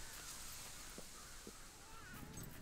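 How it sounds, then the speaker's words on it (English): Crows cawing in the Fable III video game, a few short separate caws over a quiet ambient background, with a voice talking faintly at times. "Why are there always crows around here?"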